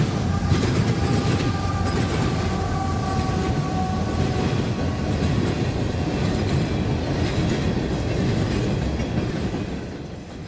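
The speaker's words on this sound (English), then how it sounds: "Ah yes, the rhythm of the diamond in Crawford, Florida" An empty CSX coal train rolls steadily over the rail diamond crossing at Crawford, Florida, its wheels beating a loud, continuous clatter with faint squealing tones, close and sustained throughout before easing slightly at the end.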